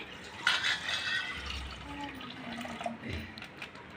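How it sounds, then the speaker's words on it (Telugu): Water splashes and trickles into a pan of milk, a brief pour with soft liquid sloshing and faint kitchen clatter. "అందులో కొంచెం వాటర్ కూడా యాడ్ చేసుకోండి"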